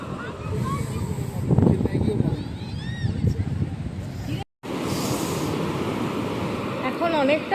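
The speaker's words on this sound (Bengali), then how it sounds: "আর এই হচ্ছে" Sea waves wash in at Puri beach under steady wind buffeting the microphone. A person speaks over the surf, and a short dropout breaks the sound midway.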